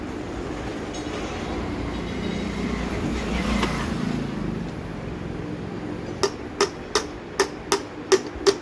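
A hammer strikes parts of an electric motor in about seven sharp, evenly spaced metallic knocks near the end. They follow several seconds of steady rumbling background noise.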